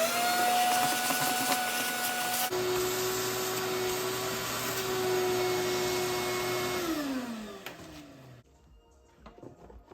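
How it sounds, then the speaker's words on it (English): A vacuum cleaner runs inside a Chevrolet Alero, a loud steady whine that shifts pitch as the nozzle moves, then winds down and cuts off near the end, leaving faint rustling. "Vacuum that out a little bit."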